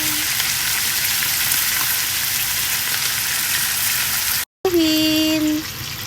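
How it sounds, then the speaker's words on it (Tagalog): A pork chop fries loudly in a pan, a steady close sizzle that cuts out briefly and then resumes with a short tonal whine over the crackle. "Piprituhin naman muna natin ang pork chop."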